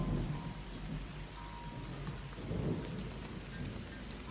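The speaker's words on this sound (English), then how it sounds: "the thunder resonating over the Reed Valley of the Guadiaro River in the torrential rains of the morning" Heavy torrential morning rain over the reed valley of the Guadiaro River, a dense steady downpour with low rumbling thunder rolling beneath it, continuous and enveloping without any voices.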